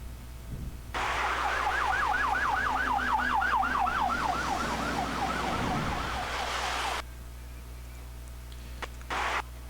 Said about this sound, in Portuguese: a gente tem como exemplo a ambulância